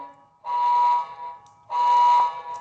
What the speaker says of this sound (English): you can basically see it go into high alarm and take over.